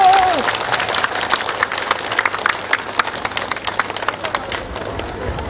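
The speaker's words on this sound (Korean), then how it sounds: "우리 젊고 참신한 후보들에게 큰 박수를 부탁드립니다." A crowd applauds local council and provincial assembly candidates at a Democratic Party campaign launch rally in Janghowon, Icheon: a dense, loud wash of clapping with scattered cheers, following a brief voice, that slowly softens.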